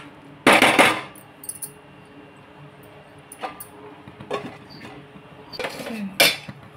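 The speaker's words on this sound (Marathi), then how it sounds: "आता आपण हे झाकण मारू." A metal lid clanks down onto a pan of frying bhindi masala with a loud clatter near the start, then lighter clinks and a second rattling knock near the end, up close with no talking.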